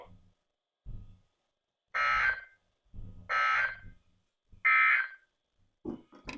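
NOAA All Hazards weather radio public warning alarm test: three loud, steady buzzing tone bursts, each about half a second, spaced evenly with short gaps and low rumbles between, no talking.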